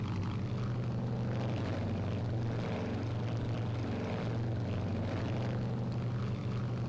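In Strike Fighters 2, the piston engines of a B-26K Counter Invader drone steadily at low altitude near a runway. The propeller roar stays loud and constant the whole time, with no voices.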